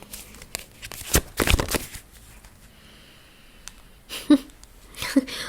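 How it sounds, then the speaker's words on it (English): Tarot cards shuffled by hand, a couple of brief riffling bursts near the start followed by softer card handling and rustling, close and moderately loud. "I literally just started shuffling and this card flipped over"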